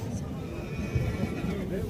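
A horse at a busy livestock market in Özgön gives a clear, close whinny with hoof clip-clops, while people talk around it.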